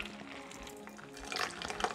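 A raspberry daiquiri is poured from a mixing vessel into a glass, giving a soft, low liquid trickle and splash that grows slightly louder toward the end.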